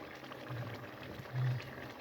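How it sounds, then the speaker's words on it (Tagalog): Egg curry simmering in a pot with a low, bubbling boil, steady and close, with a couple of slightly louder gurgling bursts. "Ayan po, kumukulo-kulo na siya."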